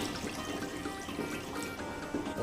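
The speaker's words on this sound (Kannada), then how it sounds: "ಸ್ವಲ್ಪ ನೀರು ಹಾಕ್ತಾಯಿದ್ದೀನಿ." Water poured into washed mutton pieces in a cooking pot before pressure cooking for mutton biryani, a steady close splashing pour that runs continuously without talk.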